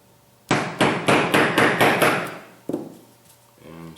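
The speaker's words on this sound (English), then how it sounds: "And set it down with the punch." A punch tapping a retaining pin into a rifle bolt: seven quick, sharp metallic taps in an even rhythm, close and loud, then one more tap after a short pause and a brief voice at the end.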